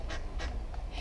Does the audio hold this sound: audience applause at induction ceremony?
no